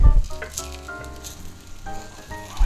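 Potato cake with ham, egg and cheese sizzling in a covered frying pan, a steady crackling fry with shifting tonal hissing, fairly loud and close, no talking.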